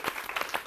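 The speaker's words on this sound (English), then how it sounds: "And clap for yourself." A small group of women in a self-defense training class clap briefly, a short burst of several quick close claps lasting under a second.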